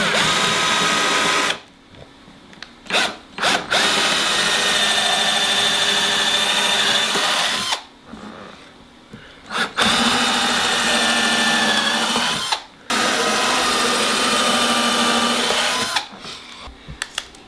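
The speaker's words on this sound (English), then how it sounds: "Now, I just got a little pilot hole to drill, and you want to countersink these screws" A power drill boring a small pilot hole for screws in a wooden low-friction rocket sled: loud steady whine in several sustained bursts separated by short pauses, close up with no talk.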